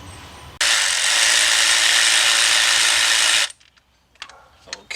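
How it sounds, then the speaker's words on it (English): A power tool whirs loudly for about three seconds, removing bolts from a Ford EcoSport engine during timing belt and oil pump work, then cuts off abruptly into quieter clinks and handling noises. "So let's get both of those bolts out of there."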